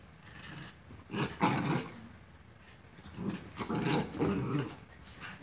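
A dog in the video game Minecraft growls low in two separate rumbling bursts, with a quieter gap between them and no talk over the sound.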